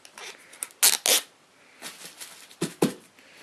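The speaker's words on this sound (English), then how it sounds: "I'll just get that wrapping paper off." Wrapping paper being torn off a boxed video game, close up, in a few loud ripping bursts with rustling and crinkling between them and no talking.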